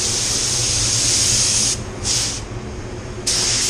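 A Walcom Kombat Slim HVLP spray gun spraying paint, a loud steady hiss of atomised air that cuts off briefly twice before resuming, with no talking.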